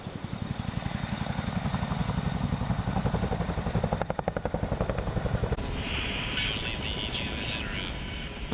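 A large twin-rotor Chinook military helicopter flies close by, its heavy rhythmic rotor thump and turbine whine steady and loud throughout, with a brief shift in tone near the end.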